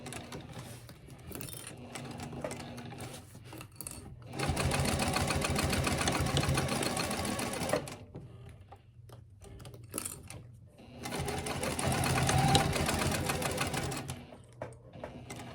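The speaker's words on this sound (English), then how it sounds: "put my presser foot back down, and then continue stitching across the bottom and then back up the side here" A sewing machine stitches across the bottom and up the side of a wallet. It runs in two long, steady, close bursts with a rapid needle rhythm, and quieter handling and pauses come before and between them.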